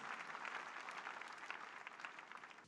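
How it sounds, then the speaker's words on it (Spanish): Members of a church congregation applaud during a healing service, soft, somewhat distant clapping that carries on evenly for a few seconds and then fades out. "¿Podemos aplaudir al Señor Jesucristo?"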